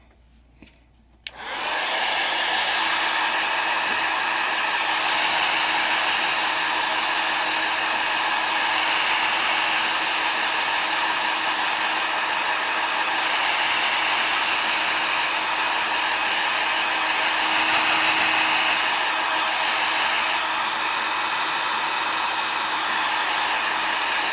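A hair dryer blows on a freshly made card, switching on after a brief moment of quiet and then holding a loud, steady, unbroken roar for over twenty seconds, close to the listener.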